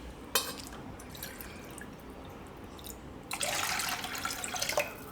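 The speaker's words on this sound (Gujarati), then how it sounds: "હવે બીજું એક વાટકી પાણી નાખીશું" A bowl of water pours into a maize flour and curd mixture in a pot. A soft click and faint drips come first, then a close, steady splashing pour fills the last two seconds, with no voices.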